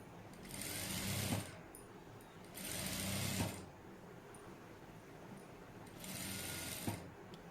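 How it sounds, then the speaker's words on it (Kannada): A sewing machine stitches piping onto fabric in three separate bursts of fast, even needle chatter. Each burst runs one to two seconds, with quiet pauses between them and a faint click as each run stops. "ಈ ಥರ ನಿಧಾನವಾಗಿ ಸ್ಟಿಚ್ ಮಾಡ್ಕೋಬೇಕು."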